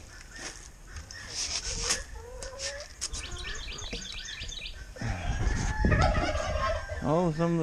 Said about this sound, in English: Oh, some of the turkeys are still in the building.